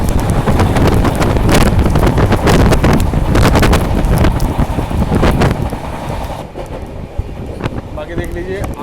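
New Delhi–Howrah Duronto Express running fast through a storm: a loud, continuous rush of wind, rain and rail rumble that eases somewhat near the end, with someone talking over it.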